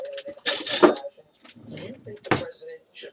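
Metal cutlery clinks and rattles in a drawer while a knife is pulled out for butter in a home kitchen, two clattering bursts mixed with a person talking.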